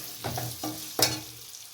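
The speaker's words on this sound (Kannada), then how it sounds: "ಇದು ಲೈಟಾಗಿ ಫ್ರೈ ಮಾಡ್ಕೊಳ್ಬೇಕು ಆ ಪೌಡ್ರನ್ನು" Spice powder and chillies lightly frying for a gooseberry pickle, soft sizzling with three distinct stirring scrapes of a spoon in the pan, close and fairly quiet.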